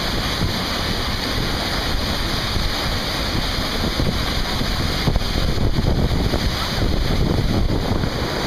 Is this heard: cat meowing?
no